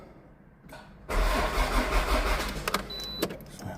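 A Toyota car that has not been started in nine months and is low on petrol: a short quiet lead-in, a brief crank, then the engine catches at once into a loud, steady running rumble with small clicks near the end.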